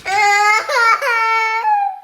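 A young boy cries loudly and close by, a sustained wailing sob broken into three or four drawn-out howls over about two seconds, with no other sound.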